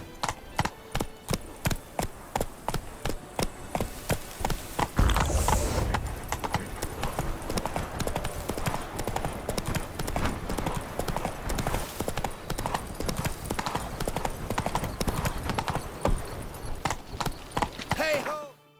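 Horse Roach galloping in The Witcher 3: Wild Hunt, Blood and Wine: rapid rhythmic hoofbeats clip-clopping continuously for most of the stretch, with brief neighs and game sounds mixed in and fading out near the end.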